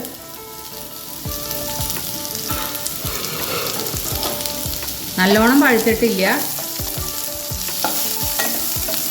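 Chopped, slightly unripe mango pieces sizzle in hot tempering for a Karnataka-style mango dish. Steady frying runs under repeated spoon scrapes against the pan, and a voice speaks briefly midway.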